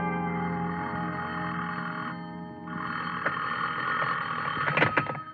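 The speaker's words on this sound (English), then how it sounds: "somebody was ringing a telephone in my ears." A telephone rings steadily in an old radio drama, a loud, continuous trilling bell with a brief pause partway through, then resuming alongside a few clicks and handling noises near the end.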